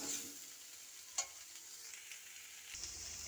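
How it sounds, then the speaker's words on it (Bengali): Soybean chunks and potatoes frying in a hot pan with a little salt, a steady low sizzle with occasional scraping stirs, one sharp clink partway through and a louder burst of sizzling near the end, no talking. "অল্প একটু নুন দিয়ে সয়াবিনটাকে ভেজে নেব।"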